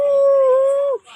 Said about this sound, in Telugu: కానీ ఇక్కడ కుక్కలు మరుగుతున్నాయి